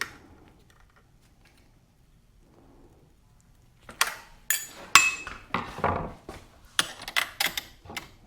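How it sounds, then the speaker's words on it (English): A wrench tightening the axle nut on an old Huffy bicycle wheel, heard as a run of sharp metallic clicks and clanks after a quiet start, some closely spaced, some isolated. "And then we'll turn the wrench to do the final tightening."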